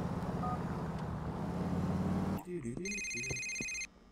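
A phone rings in the Grand Theft Auto: The Lost and Damned video game, a steady repeating electronic ring that cuts in partway through over the game's background sound, then stops just before the end.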